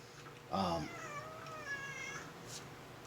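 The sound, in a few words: cat meowing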